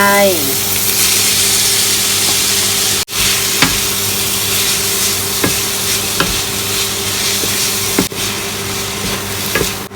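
Mama instant noodles stir-fried with basil in a pan: a steady, close sizzle runs throughout, broken by regular scraping strokes of a spatula and a low hum underneath.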